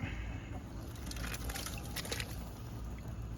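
Shrimp splash into a backyard pot of boiling water with corn, soft liquid sloshing and trickling over a steady bubbling rumble, faint and close, with a few brighter splashes in the middle.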